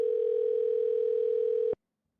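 A steady single-pitch telephone tone sounds as an outgoing call is placed, holding evenly for under two seconds with a slight pulsing at the start, then cutting off abruptly into silence.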